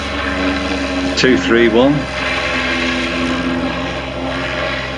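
An autogyro taxis and takes off at a microlight airfield open day, its propeller engine droning steadily at a moderate distance, with a brief spoken number cutting across it.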